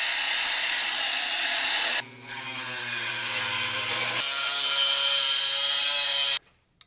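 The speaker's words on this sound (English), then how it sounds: "Fortunately, I have a Dremel with a cutting wheel, and I'm gonna try that." A Dremel rotary tool fitted with a cutting wheel slices through aluminum rudder stiffeners for an RV-10 aircraft vertical stabilizer, giving a loud, continuous grinding whine that briefly dips, resumes with shifting pitch, then cuts off abruptly.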